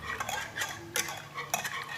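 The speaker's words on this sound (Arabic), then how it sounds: "نخلط غير شويه ونحط هذا الخليط يعقد فوق النار" A spoon scrapes and clinks against a pot while a cornstarch or flour mixture is stirred, giving repeated metallic taps and scrapes in an irregular rhythm, close and clear, with no talk.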